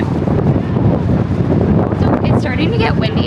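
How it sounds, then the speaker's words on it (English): Strong gusting wind buffets the microphone at the edge of Central Park in New York, a loud steady roar with faint voices rising near the end. "So it's starting to get windy"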